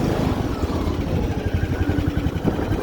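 A John Deere LA125 riding lawn mower engine runs with the throttle pulled up, a steady, throbbing mid-pitched drone that stays loud and close for a few seconds without talking.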